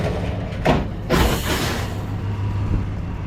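A truck engine idles with a low rumble and a couple of hissing bursts, close and fairly loud, with no voices.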